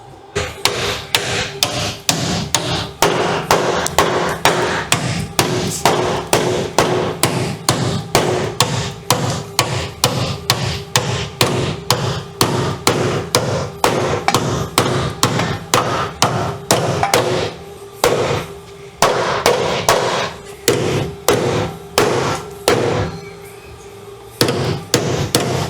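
Rapid, loud hammer blows forming metal during a 2010 Toyota 4Runner rear frame rust repair, struck in fast, steady bursts with short pauses, near and ringing.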